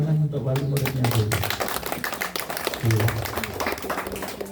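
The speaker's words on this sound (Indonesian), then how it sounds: "Maka tepuk tangan untuk wali muridnya dulu" Audience applause at a kindergarten graduation ceremony: dense, steady clapping fills the room at moderate loudness, mixed with voices and tonal sounds throughout.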